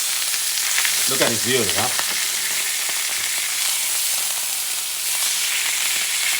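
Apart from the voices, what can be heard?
bison steak sizzling in pan after being flipped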